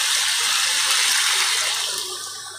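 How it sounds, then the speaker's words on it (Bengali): Water poured into a pan of cooking pointed gourd curry, a loud steady rushing splash that pours continuously and then tapers off at the end. "এইবারে আমি এতে জল দেবো।"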